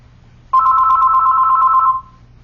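A telephone rings with an incoming call: one steady electronic tone, loud and close, holding for about a second and a half before cutting off, with no talking.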